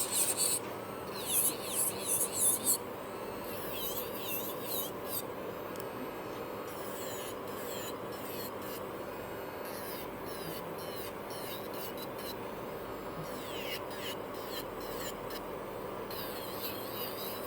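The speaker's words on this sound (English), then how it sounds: "When I'm removing the bulk of the product, I keep the contact with the nail all the time" A soft, continuous whirring grind from a small electric nail drill removing product from a nail, close and quiet, with faint high scratchy ticks over it and no speech.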